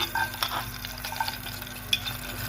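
Garlic and one small onion frying lightly in a spoonful of ghee: a close, steady sizzle with repeated stirring scrapes and small clicks of the spoon against the pan.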